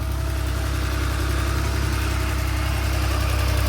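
A car engine idles in a loud, steady, even drone, with a close, constant low rumble and no talking.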